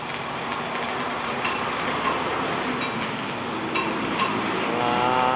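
A D4 hollow block making machine runs continuously, a loud dense mechanical roar with faint periodic clanks and a rising whine toward the end.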